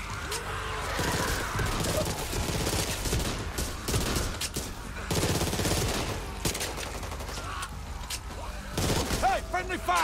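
Bursts of automatic gunfire and single shots crackle through a frantic co-op zombie shooter fight in Back 4 Blood, dense and continuous with scattered impacts, while players talk over the action.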